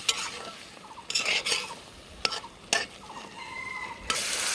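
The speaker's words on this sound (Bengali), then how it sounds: "এখন কুমড়া বড়ি ও বেগুনটাকে আমি কষিয়ে নেব, মশলার মধ্যে কষিয়ে নেব" Brinjal and kumro bori being sautéed in spice masala for a pangas fish curry, with bursts of loud sizzling and scraping from the spatula and clanks against the pan between quieter moments.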